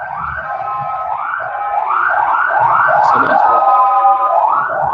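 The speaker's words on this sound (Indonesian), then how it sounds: "Ada ambulan lewat ya?" An ambulance siren wails in a repeating rising-and-falling pattern, loud and steady throughout as it passes by outdoors, with no talking.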